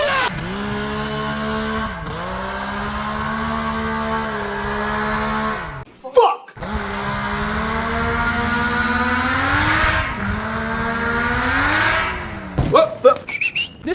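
A 140HP ATV with a new exhaust revs hard in snow, its loud, buzzy engine note holding steady then climbing in pitch twice, with a short throttle-off break in the middle and choppy blips at the end.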